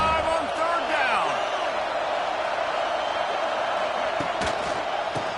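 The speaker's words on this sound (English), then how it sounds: "The Buckeye crowd alive on 3rd down." Stadium crowd roaring at a Buckeyes football game on third down, a dense, sustained wall of cheering heard at a distance, with a commentator's voice over it.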